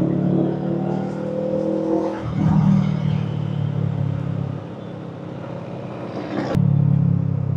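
Busy midday traffic on Commonwealth Avenue near SM Fairview: rumbling engines and cars revving and sweeping past at close range, one loud pass early on and another near the end over a continuous motor hum.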